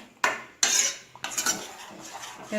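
A spoon scrapes and clinks against a metal pot as food is stirred while cooking a devotional offering, three distinct stirring strokes close up with no talking.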